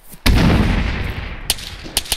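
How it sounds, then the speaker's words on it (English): Frag grenade explosions in the ARMA 3 military shooter, one heavy blast at the start with a long rumbling decay, followed by several sharper, smaller bangs nearby. "throw frags into that bunker"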